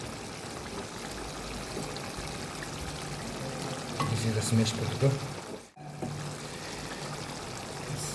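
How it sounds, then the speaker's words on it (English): Water pours and trickles into a pan of chicken curry thickened with smashed potato, a steady liquid splash swelling briefly with some sizzle and stirring, heard close up under a person's talking. "So I'm adding water here, and I'll add here."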